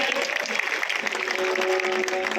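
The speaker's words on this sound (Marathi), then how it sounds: "जोरदार टाळ्या होऊ दे." A crowd at a Dashavatar folk theatre prize ceremony in Dombivli applauds, with a continuous bright clatter of hands over a faint sustained musical tone.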